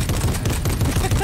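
A gun fired at a tree in Fortnite, with rapid, loud repeated shots crackling close by over a short burst.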